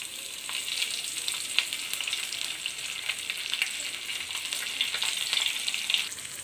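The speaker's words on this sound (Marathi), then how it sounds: "फिश आपण सगळे मच्छीचे तुकडे असे फ्राय करायला टाकले" Rava-coated bangda mackerel pieces frying in hot oil, a continuous bright, crackling sizzle with small pops, steady and close throughout.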